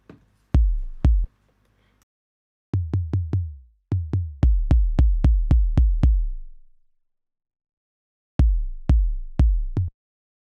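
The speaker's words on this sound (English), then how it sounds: "So that's my synthesized kick sound." A synthesized kick drum from an Ableton Live Operator FM synth, shaped with pitch envelopes and filters, thumps in punchy, decaying hits: a pair, a long steady run of about a dozen, then four more after a pause.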